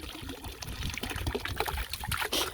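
A small pump bubbles in a horse water trough, giving a continuous close gurgling and trickling with irregular pops and splashes throughout.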